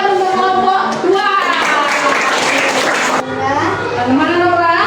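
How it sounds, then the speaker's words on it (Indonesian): A primary-school class claps for a group of pupils. The clapping is mixed with loud, close children's voices that sit over and around it. "kasih tepuk tangan untuk kelompok 2"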